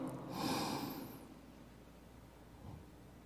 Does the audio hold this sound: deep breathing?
yes